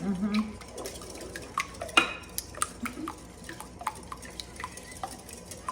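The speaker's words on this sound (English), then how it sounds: "then we're gonna whisk this up" A whisk works vanilla and water in a bowl, giving quick, irregular clicks and taps against the sides amid light kitchen clatter, fairly quiet and close.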